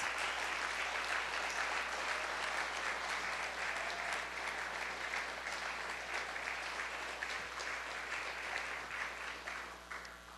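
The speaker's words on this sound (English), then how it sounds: "why don't we give another round of applause for all of our poets?" A crowd at a poetry awards ceremony claps steadily and warmly for about ten seconds, a dense, even wash of applause that tapers slightly at the end.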